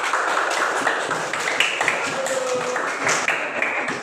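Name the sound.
applause for group 1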